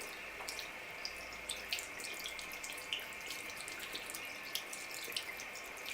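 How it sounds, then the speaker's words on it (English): Cold water streams steadily from a tap while a makeup brush is rinsed, with small splashes and drips, a constant hiss that stays fairly quiet and close throughout. "I'm going to go ahead and rinse the brush out, and I'm going to use cold water"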